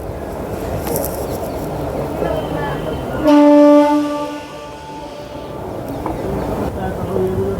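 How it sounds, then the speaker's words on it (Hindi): An Amrit Bharat Express hauled by a WAP 7 electric locomotive pulls out of Etawah Junction. There is a steady rolling rumble and a loud, sustained horn blast partway through, heard from on board. "इटावा जंक्शन से हमारी ट्रेन निकलती हुई, यानी कि डिपार्ट करती हुई"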